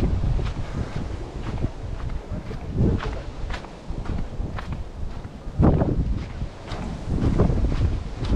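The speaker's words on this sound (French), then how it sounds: "Le vent, le vent." Gusty wind buffets the microphone in uneven surges, with a low rumbling roar rising and falling across the whole stretch, no voices.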